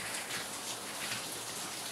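Steady heavy rain lashes a work shop, a thick wash of drops hammering the surfaces nearby, constant and loud, with nobody speaking.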